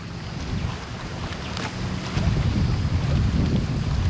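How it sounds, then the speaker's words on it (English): Steady wind gusting over choppy water aboard a fishing boat, a continuous broadband roar with microphone buffeting that swells louder partway through, no voices. "I love this it's windy."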